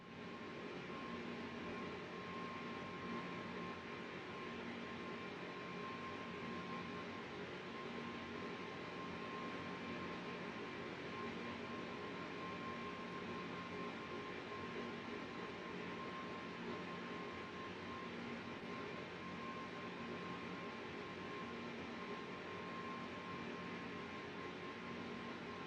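Airbus A320neo climbing with autopilot and autothrottle engaged in Microsoft Flight Simulator 2024: a steady, unbroken engine roar with a faint whine runs at even loudness throughout, with no talk.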